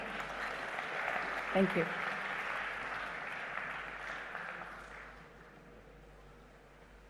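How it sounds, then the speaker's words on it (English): Applause from the audience at a business expo greets a speaker walking up, a soft, distant, even wash that slowly fades, and someone speaks briefly during it. "let us welcome him with a huge round of applause"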